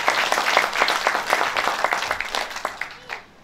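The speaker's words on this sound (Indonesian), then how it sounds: "Tepuk tangan buat Tuhan kita." Church congregation clapping at a Sunday worship service, a dense burst of many hands that fades out toward the end, with no talk over it.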